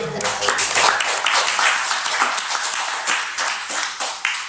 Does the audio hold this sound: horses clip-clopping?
no